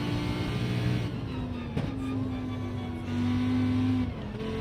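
A race car engine in Gran Turismo 7 holds a steady, droning idle-to-mid rev, its pitch stepping up and down slightly as the throttle shifts, close and continuous throughout.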